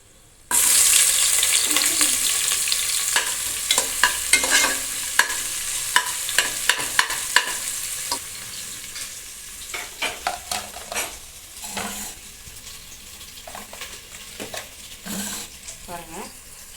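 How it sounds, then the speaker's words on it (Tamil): Whole spices, fennel and bay leaf, sizzle and fry in hot oil in a pan while a spoon scrapes and stirs through them in repeated close strokes, the frying hiss steady underneath. "பிரியாணி இலை இதெல்லாமே போட்டு ஒன்றா போட்டு மிக்ஸ் பண்ணிக்கலாம்"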